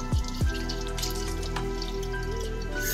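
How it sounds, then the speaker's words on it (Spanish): Water being poured into a container, filled to just over half, a steady continuous stream running close by with a couple of brief drips at the start and no talking. "llenarla de agua. Un poco más arriba de la mitad, que falten 2 dedos de agua."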